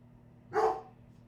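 A single dog bark rings out at moderate distance in a home, over a steady low hum, with a garbage truck reportedly making rounds outside.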